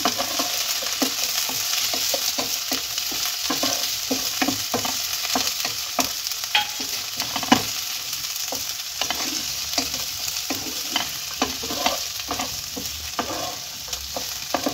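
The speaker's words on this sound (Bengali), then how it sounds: "একটু নেড়ে চেড়ে নেব" Cauliflower, potatoes and peas being stirred and fried in a pan, with continuous crackling sizzle of oil and repeated scraping strokes of a spatula at a steady rhythm, close and clear with no talking.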